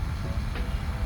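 Vovova handheld fan running on its second speed setting, giving a steady, close whirring airflow hum that stays even and continuous throughout with no talk over it.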